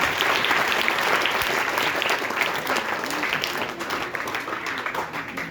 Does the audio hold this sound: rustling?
no